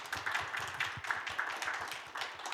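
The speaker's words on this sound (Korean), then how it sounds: "박수 한번 보내주세요" An audience at a church gathering claps steadily for a few seconds, with dense, overlapping handclaps at a fairly soft, even level.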